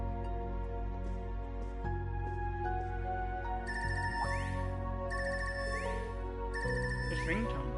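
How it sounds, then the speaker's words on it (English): A phone ringtone in the video game Trails of Cold Steel III plays a bright, looping electronic melody with chiming tones, fairly quiet, while a person speaks over it. "This ringtone. I haven't heard this before."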